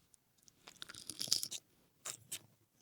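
Crunchy bites and chewing on a soft, chewy keto chocolate chip cookie, made without almond flour, close to the mic: a run of crisp crunches followed by two distinct chewing bursts, with no talk.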